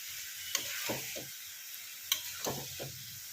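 Mutton mince is stirred and fried in a pan, with two bursts of scraping strokes against the pan over a soft, steady sizzle, heard close and without talk.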